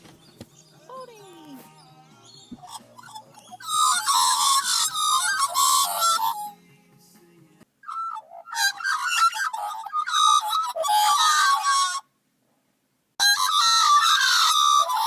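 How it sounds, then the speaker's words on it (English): Australian magpies singing: bursts of loud, harsh warbling and chortling calls broken by pauses, with faint whistled notes at the start and one sudden silent gap. Close and noisy throughout. "I saw Serenaded by Australian Magpies, I just thought they would sound better."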